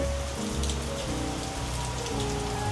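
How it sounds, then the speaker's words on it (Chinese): Heavy rain in Okinawa, Japan, pours down in a dense, steady hiss, drumming on surfaces close by without pause. "结果吃完之后下大雨"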